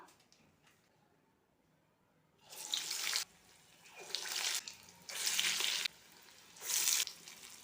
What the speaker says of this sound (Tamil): வடையை தட்டிட்டு எண்ணெயில் சேர்த்துடலாம்